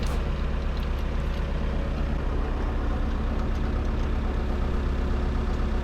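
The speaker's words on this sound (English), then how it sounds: "connecting the Porta Power ram back to the pump so we can put pressure on" Hydraulic pump pressurizing a Porta Power ram, a steady, loud mechanical drone with a low, engine-like hum that runs unbroken throughout.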